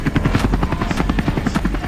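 Helicopter rotor in flight: fast, loud, evenly chopping blade thumps with a buzzing engine drone, close and continuous with no talk.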